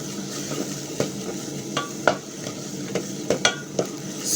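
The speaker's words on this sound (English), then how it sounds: "So I'm cooking my tomatoes." Tomatoes for an egg curry are stirred in a hot pan, with a soft continuous sizzle broken by repeated scraping and tapping strokes of the utensil against the pan.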